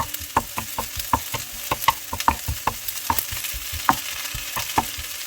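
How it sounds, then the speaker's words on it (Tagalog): Garlic frying in a little oil while pork curry cooks, a soft sizzle under repeated clinks and scrapes of a utensil stirring the pan in an irregular rhythm. "I maybe add a little bit of oil in that side, just to fry our garlic"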